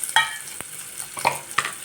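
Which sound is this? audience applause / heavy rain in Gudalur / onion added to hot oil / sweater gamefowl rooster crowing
onion added to hot oil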